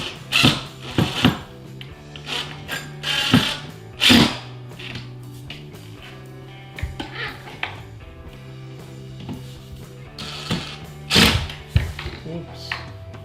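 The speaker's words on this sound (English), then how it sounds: "now I'm going to put in the bottom screw before I tighten it up" Screws being driven into a curtain rod bracket on a wall, intermittent whirring and grinding bursts with scraping and tapping between them, close and uneven in rhythm.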